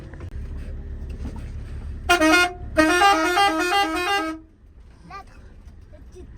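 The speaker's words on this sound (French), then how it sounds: "Papa, klaxonne, là." A vehicle horn sounds from a family's bus, with one short honk followed by a longer sustained blast, loud and close, and a voice speaks briefly.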